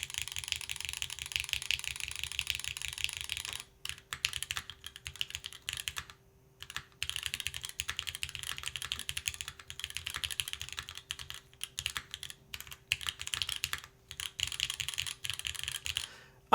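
Typing on an Optica 60% mechanical keyboard makes dense, steady clacking in quick bursts with short pauses between runs, close and clear, with no talking.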